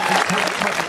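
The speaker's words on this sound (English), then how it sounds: "big round of applause for Mark Stevenson" A crowd applauds a competitor at the Peak District Highland Games, a dense, steady burst of clapping that fills the brief moment without pause.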